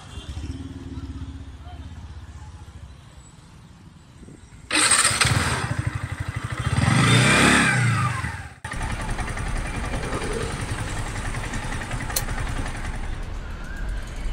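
A motorcycle engine is started after a quiet stretch, revs loudly and rises in pitch, then drops back to a steady, close idle. People talk nearby.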